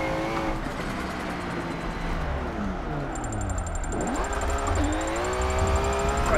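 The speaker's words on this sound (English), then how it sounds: "Still hear the turbo flutter." Drift car engine in Forza 7 revving and shifting, with pitch sweeps rising and falling and the sharp fluttering chatter of the turbo between revs, loud and continuous, no talk.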